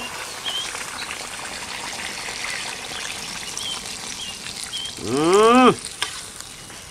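Green apple chicken fries in a pan with a steady, soft sizzle, then a short gush of poured water brings a brief rising, hollow gurgle before the sizzling settles back.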